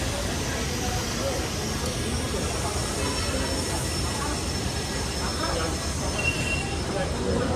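A metro train rumbles and rolls along the tracks as it departs, with a low, steady roar, and faint squeals ride above the continuous noise.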